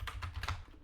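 Quick, quiet taps on a computer keyboard, a short burst of several close key clicks lasting under a second.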